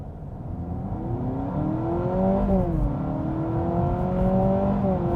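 A Honda Civic Sport Touring Hybrid accelerates hard on a 0-60 run, its engine note climbing steadily in pitch with a brief dip near the middle before rising again. The drone stays loud and continuous from inside the car, with no talking.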